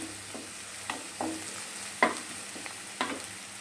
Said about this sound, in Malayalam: ചതച്ച് വെച്ചേക്കുന്ന ഇഞ്ചിയും പച്ചമുളകും വെളുത്തുള്ളിയും മല്ലിയിലയും കൂടെയുള്ള മിക്സ് നമുക്ക് ചേർത്ത് കൊടുക്കാം